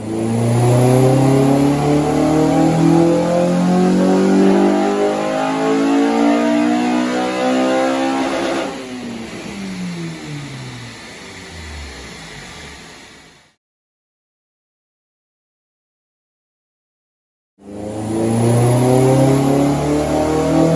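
A tuned Honda Civic EP3 Type R with a K20 engine revving hard on a rolling road dyno, rising through the gears loudly and close, then falling away before a gap of silence and another rev.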